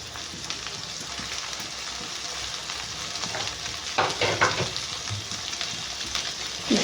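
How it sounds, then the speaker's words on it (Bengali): Minced meat frying in a pan with ginger and garlic, a dense continuous sizzle up close, with stirring scrapes growing louder toward the end. "দিয়ে এবার এটাকে ভাজা ভাজা করবো ভালোভাবে"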